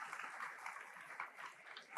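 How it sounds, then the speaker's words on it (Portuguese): Soft, distant audience applause for panelists at a banking technology conference session, a steady low wash of many hands clapping. "uma salva de palmas para os nossos painelistas aqui"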